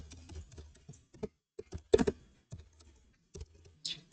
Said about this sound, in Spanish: Teclado.